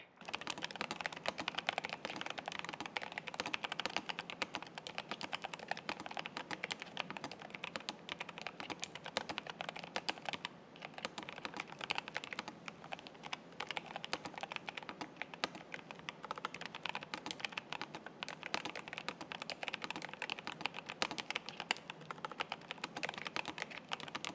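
Rapid, steady typing on a low-profile mechanical keyboard, a NuPhy Air 75 V2, dense overlapping key clicks continuing throughout with one brief pause midway, no voices.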